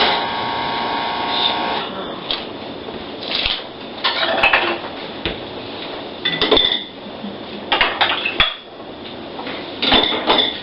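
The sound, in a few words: loading a batch of dishes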